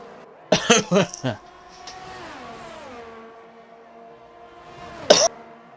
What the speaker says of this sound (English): Get that little cough out.